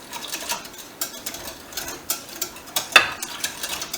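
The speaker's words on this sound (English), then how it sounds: "now we're going to just give it a good stir." Fed sourdough starter being stirred in a container, a quiet run of irregular sticky clicks and soft scraping taps, close and fairly faint, with one sharper knock near the end.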